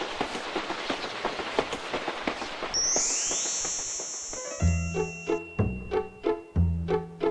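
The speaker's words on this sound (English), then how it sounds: "Clickety-clack, clickety-clack. The green train car chugs down the track." A toy train, a green train car, clatters along its track: dense rapid clicking gives way to a long whistle tone, then a steady rhythmic clickety-clack of evenly spaced beats, close and clear.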